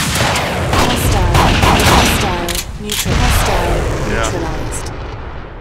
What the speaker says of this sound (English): He fired and he pretty much stayed in the same spot, so I was able to hit him with that grenade